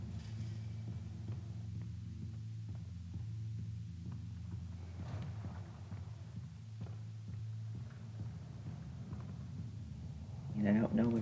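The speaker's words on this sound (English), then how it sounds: "Turn on the ink machine." Ink machine from the video game Bendy and the Ink Machine running with a low throbbing hum and pulsing rhythmic thumps, steady and droning, with some brief clatter near the end.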